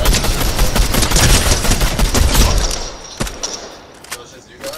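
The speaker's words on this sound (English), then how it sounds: "Oh, somebody's shooting. From up top." Fortnite gunfire rattles in rapid, dense bursts for the first few seconds, loud and close, then thins to a few scattered shots as the noise fades.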